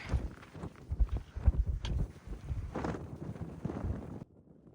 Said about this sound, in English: Lots of wind up here.